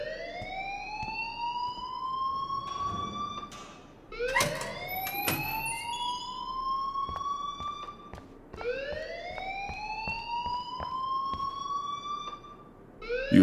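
A rising, wailing siren-like alarm sweeps upward again and again in Life is Strange 2, loud and continuous, with brief clattering sounds between the sweeps and no one speaking.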